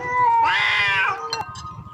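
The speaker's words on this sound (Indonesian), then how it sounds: "Kucing ada deh, barang kucing, pulang." A cat lets out one loud, drawn-out meow close by, followed by faint clicks and rustling in a quiet outdoor setting.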